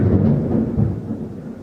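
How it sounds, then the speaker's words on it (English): Thunder rumbles outdoors during a storm, a deep, loud rolling boom that swells and slowly fades, heard on its own with no voices. "if you hear that, it's thundering out here"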